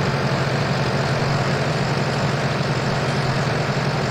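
A tractor engine in a video game runs continuously, a loud, steady low-pitched rumble with an even idle-like throb and nothing else heard.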